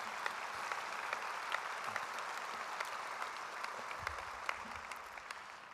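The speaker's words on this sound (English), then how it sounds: "So if we could just give a little round of applause to the Kaboto Center." Audience applause for the Kaboto Center at a national memorial ceremony for an Indigenous judge, a steady, moderately distant round of clapping from a crowd, with no talking.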